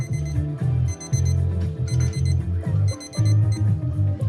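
Kitchen timer alarm ringing in rapid repeated bursts of bright electronic beeps, loud and close, with short gaps between each cluster.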